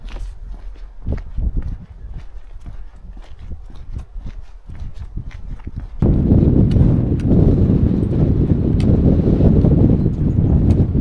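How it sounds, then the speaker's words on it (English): Strong wind on a narrow road in the Lofoten Islands buffets the microphone. It starts as a gusty rumble under rhythmic steps, then swells into a loud, continuous roar. "the wind's trying to blow me into the middle of the road"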